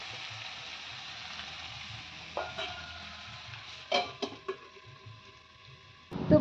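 Potatoes frying in a pan for a home-cooked fish and potato dish give off a steady soft sizzle, with a few clinks and scrapes of stirring partway through and a louder clatter at the end. No one speaks.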